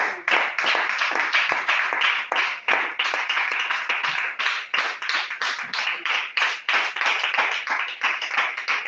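A church congregation claps to acclaim the Lord in sharp, rhythmic, unison beats, a steady run of loud claps that carries on without pause, with no talk over it.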